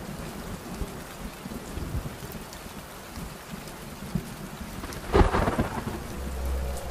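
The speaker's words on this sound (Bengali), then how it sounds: "এমন সময় বৃষ্টি শুরু হলো।" Steady cartoon-style rainstorm pours on a rural night, with a loud thunderclap crashing about five seconds in and a low rumble rolling underneath toward the end.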